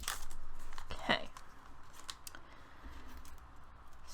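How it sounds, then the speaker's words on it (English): Scissors snip a Pokemon card pack, with a sharp close cut followed by faint rustling and handling, quiet overall. "I need the scissors."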